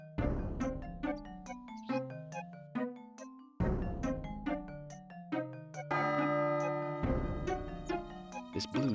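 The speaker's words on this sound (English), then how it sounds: "we need to create the bong. Or gong sound, using the bong" Resonant gong-like chimes ring out in the 1996 PC game Realms of the Haunting, with repeated struck tones and long decays sounding alone in several overlapping sequences.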